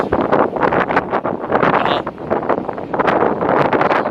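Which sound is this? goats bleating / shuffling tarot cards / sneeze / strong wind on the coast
strong wind on the coast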